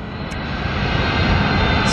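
Boeing 717 jet engines spool up at an airport, a broad steady roar that swells slightly and holds loud and close for the whole stretch, with no talking over it.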